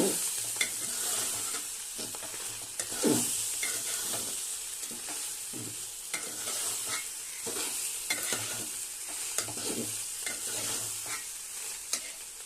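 Rice pilaf stirred in a pan over heat, a vegetarian polao: soft, continuous sizzle broken by irregular scraping and tossing strokes of a spoon through the grains, close and moderate in level, with no talking.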